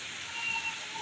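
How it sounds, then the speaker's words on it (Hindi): Heavy rain falls in a steady, even hiss with no talking. "बारिश ना बहुत ज़्यादा तेज़ हो रही है"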